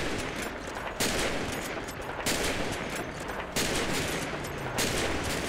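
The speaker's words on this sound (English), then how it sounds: "take your shots, Jacob." Sniper rifle fire in a video game, with four loud, sharp shots spaced about a second or more apart over a steady background roar.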